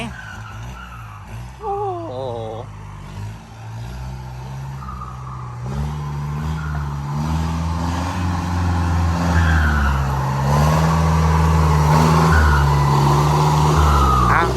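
A turbocharged M75 tractor engine roars under load while pulling a four-disc plough in a field in Nakhon Pathom, a loud continuous drone that rises in pitch as it revs harder.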